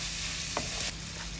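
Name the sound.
shrimp and onion frying in a pan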